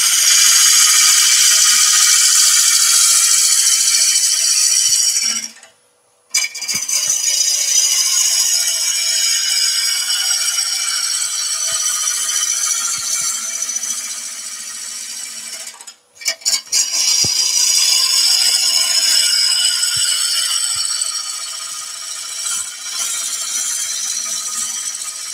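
A wood lathe turns a potpourri pot blank down to a smaller size, making a loud, steady hissing cut that breaks off twice in brief pauses before carrying on.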